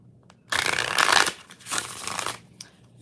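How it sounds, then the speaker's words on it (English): Tarot cards being shuffled in two bursts of quick riffling and sliding, close and fairly loud, with a soft hum underneath and no talking. "Want 2 more shuffles."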